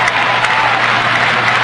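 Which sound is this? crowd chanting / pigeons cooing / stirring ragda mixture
crowd chanting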